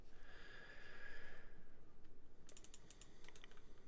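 Computer keyboard typing in the second half, a quick run of light clicks following a quieter stretch while working on a server install.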